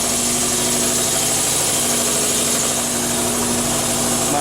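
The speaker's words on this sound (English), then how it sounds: "my air compressor." An air compressor runs loud and steady with a constant droning hum and faint rattling vibration, no pauses, close by in a workshop alongside an old tractor puller setup.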